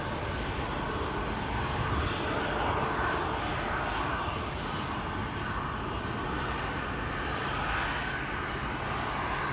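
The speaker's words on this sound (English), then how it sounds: "E2 Embraer 195." Embraer 195 E2 airliner at Amsterdam Schiphol, a steady broad engine roar sustained at moderate distance with no talk.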